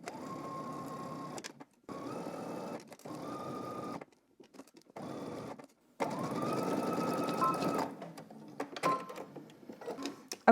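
Sewing machine stitching a pants seam, running in several short bursts of one to two seconds with a longer two-second run, close and fairly loud, separated by brief silent stops.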